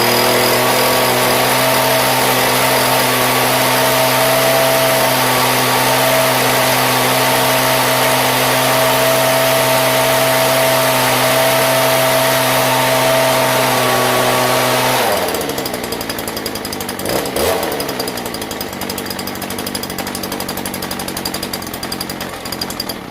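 An aging landscaping machine's small engine runs hard at full throttle, a loud, steady drone with strong harmonic tones that cuts off about two-thirds through, leaving lower, rougher mechanical noise.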